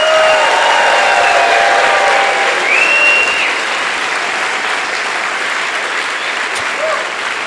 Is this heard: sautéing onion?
no